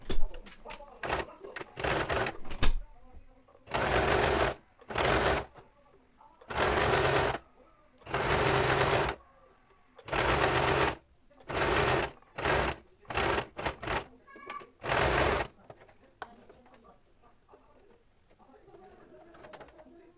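A sewing machine stitches a school vest in a run of loud mechanical whirring bursts, some short and some several seconds long, separated by brief pauses, then winds down to quiet handling noise.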